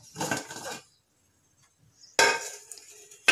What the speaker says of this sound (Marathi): आता आपण झाकण काढूयात।